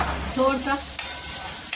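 Onion and tomato fry in a pan for a stuffed capsicum dish, giving a steady sizzle with stirring scrapes and two sharp clinks, while someone speaks briefly.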